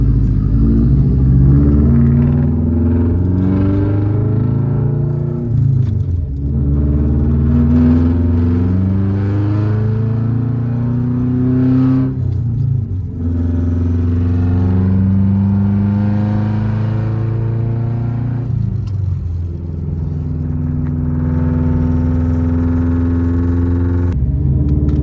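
A 2002–2008 Subaru Forester with a 38mm wastegate and straight pipe revs hard and continuously up close, its loud rumbling engine rising and falling through repeated throttle blips with turbo whoosh between.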